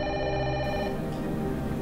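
A telephone rings with a steady, sustained electronic bell tone that runs without a break and stays fairly loud and close, with no talk over it.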